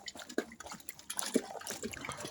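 Rainwater collected on a chicken farm drips and splashes in scattered, irregular drops, close and fairly soft, with a faint wet background and no talk.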